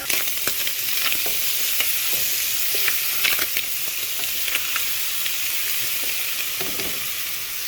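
Onion, tomato and garlic salt sizzle steadily in a hot pan while making cabrito, a close, continuous frying hiss with small crackles and occasional stirring scrapes.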